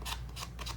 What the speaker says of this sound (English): I'm just going to go ahead with the edge of my scissors.